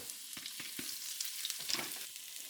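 Ginger and red hot pepper sizzle in oil in a hot wok, a steady bright frying hiss broken by a few soft stirring scrapes and taps, close and moderately quiet, with no talking.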